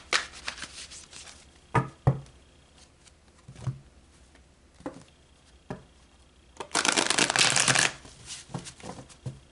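Tarot cards are shuffled up close: scattered crisp riffles and taps, then a longer rapid flutter of shuffling near the end, with no talking.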